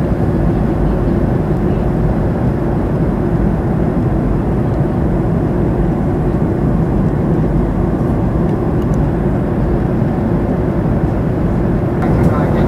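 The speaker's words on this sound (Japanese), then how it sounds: "まもなくグアム国際空港着陸です" Steady, loud cabin drone of a passenger airliner on final approach into Guam International Airport, a continuous low rumble that stays even from start to end, with no talk over it.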